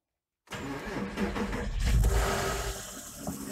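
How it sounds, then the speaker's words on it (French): A Porsche Boxster 986 engine cranks and starts after a moment of silence, then settles into a steady idle rumble close by. "je vais mettre en route le moteur."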